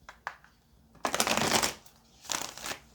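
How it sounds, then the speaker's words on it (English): A deck of tarot cards is riffle-shuffled up close, with a couple of brief flicks, then a long fluttering riffle, then a second shorter riffle. "I'm going to get one more shuffle"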